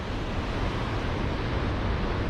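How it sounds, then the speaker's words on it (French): Large winter surf, three to four metres high, pounding Morocco's wild coast below cliffs, a dense continuous roar of breaking waves mixed with wind buffeting, loud and unbroken with no voices. "c'est trop dangereux là, il y a 3 à 4 mètres de vagues."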